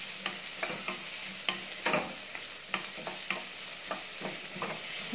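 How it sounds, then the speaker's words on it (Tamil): Chillies and onions sauté in hot oil under a soft, constant sizzle, with a spoon stirring and scraping in quick, regular strokes close by. "மிளகாய் வந்து நல்லா ஃப்ரை ஆகிடும்"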